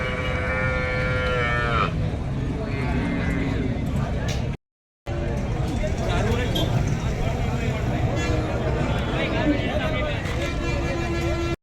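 A cow moos loudly several times at the Karimangalam cattle market, with drawn-out calls over a busy background of people chatting and traffic noise.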